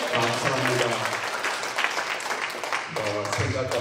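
A church congregation at a Korean revival service claps in a dense, steady round of applause while voices carry on over it throughout.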